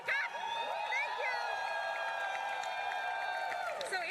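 Arena crowd at Dota 2 The International 2022 main event, whooping and cheering in a sustained roar with shrill whistles and high voices riding steadily over the din.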